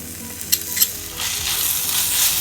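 Spice powders and tomato ketchup sizzle while frying in a pan for spicy chicken kondattam, a steady close hiss that swells louder partway through, with a couple of sharp stirring knocks near the start.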